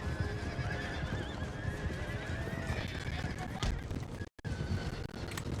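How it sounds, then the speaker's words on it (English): Cavalry horses in Total War: Empire battle, whinnies and clip-clopping hooves over a dense battle din, moderately quiet, with a brief dropout near the end. "we're going to send in our horsey boys to assist"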